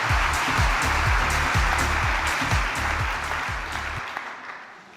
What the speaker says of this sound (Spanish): Y yo pediría un aplauso también para los que no están